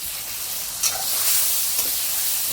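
Shark fish frying in hot oil with chili, turmeric and spices gives a steady, close hiss and sizzle, broken by a couple of brief stirring scrapes, with no voices.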